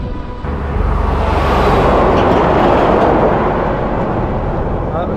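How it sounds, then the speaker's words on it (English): A heavy triple-trailer grain road train roars past close by on a rural road, a loud, sustained rumble of engine and tyres that swells and holds steady. "Big old grain trucks, triple trailer road trains."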